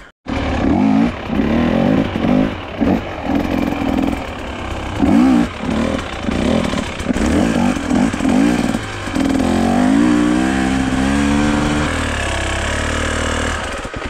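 A two-stroke dirt bike engine chugs uphill at low revs with a steady, loud, irregular throb, pulsing in short bursts before settling into a smoother, continuous drone.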